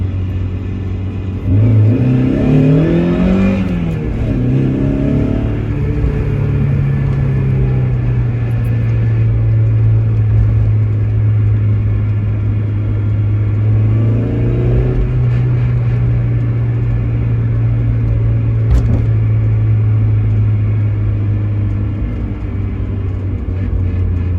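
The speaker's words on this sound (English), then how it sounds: "I normally take this in first gear just to give the engine a few revs" A 1989 Mazda MX-5 engine drones loudly and close in first gear, rising in pitch as it revs up, then settling into a steady hum before revving again.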